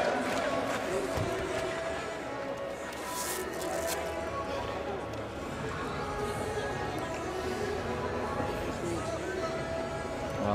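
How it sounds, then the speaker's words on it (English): A Croatian crowd at an amateur boxing bout in Doha roars and chants in a steady, dense wall of noise, while a commentator talks over it. "The Croatians in full voice as they cheer their man."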